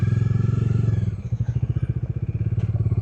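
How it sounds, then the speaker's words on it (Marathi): A motorcycle engine idling close by with a steady, low, pulsing thump while the bike is rolled onto a ferry jetty, the beat slowing slightly toward the end. "तिकीट घेतलेलं आहे, आता टाकूया बाईक जेट्टीमध्ये."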